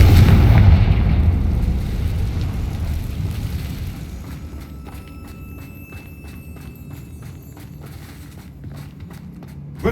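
A heavy boom from the Confringo blasting spell in Hogwarts Legacy opens loud and rumbling, then fades, leaving rapid crackling taps and a thin ringing tone trailing off.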